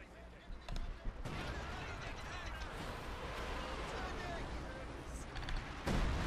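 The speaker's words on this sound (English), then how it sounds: "the Katyushas are just trying to barrage and blow up the Sheriff Prince's headquarters" Katyusha rocket artillery pounds an enemy headquarters in a war video game: a sustained, dense roar of rumbling blasts and crackling impacts runs nearly unbroken, with a sharper burst near the end.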